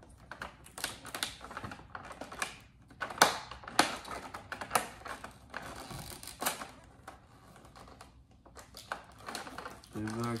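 Plastic side bracket clicking loose from the box of a 1/18 scale 1970 Dodge Challenger R/T die-cast model, a run of sharp close clicks and rustles with speech over them.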